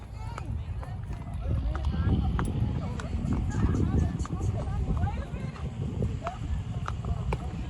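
A horse walks on a trail ride in Jamaica, its hooves clopping faintly and irregularly beneath constant chatter from riders nearby.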